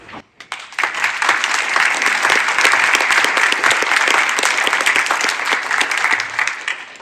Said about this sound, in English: we give all of our veterans, including myself here today, a round of applause and say thank you